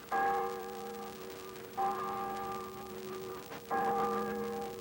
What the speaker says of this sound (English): The bells ring out the Sabbath.